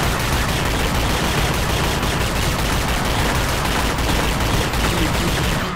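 Dense, continuous gunfire from the video game The Chronicles of Riddick: Escape from Butcher Bay, with rapid overlapping shots and bursts forming an unbroken, loud barrage throughout.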